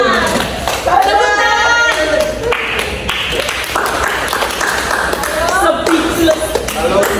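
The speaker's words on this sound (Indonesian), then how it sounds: "tepuk tangan buat Mustafa." Children in a classroom clap together during a teaching simulation on insect metamorphosis, a dense, steady burst of hand claps lasting several seconds with voices calling out over it.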